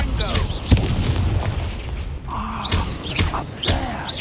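A Confringo fire spell from Hogwarts Legacy bursts repeatedly as booming blasts, with a sharp impact early on and several more punchy hits over a rumbling game-effects bed.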